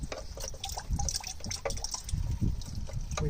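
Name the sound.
engine coolant draining out during car water pump replacement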